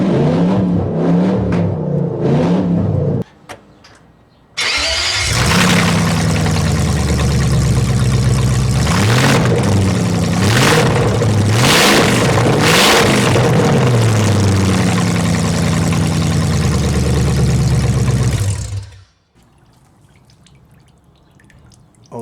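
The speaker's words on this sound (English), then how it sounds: "start the legendary M60 P40 without exhaust. I love the sound." The V8 engine of a 1995 BMW 540i E34, an M60 4.0-litre, running without an exhaust: a loud, raw, close-up roar that surges through several revs for about fourteen seconds, then cuts off abruptly into quiet.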